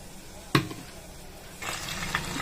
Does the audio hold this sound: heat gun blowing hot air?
no